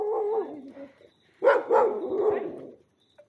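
Dogs barking at night along a dark Western Ghats road: a short howl-like bark, then a burst of several loud close barks, with a brief quiet gap between.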